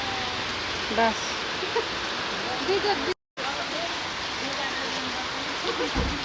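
Steady rain falls in the hills around Ramite, a broad, even hiss of water throughout, with brief voices talking over it and a short dropout midway.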